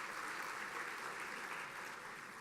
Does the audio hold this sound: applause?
yes